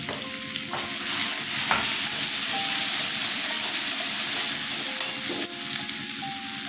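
Chilli, cumin and coriander powders fry in hot oil with turmeric for a Bengali chhola and olkochu curry, a loud continuous sizzle with a spatula scraping and clinking against the pan, close up and with no one speaking.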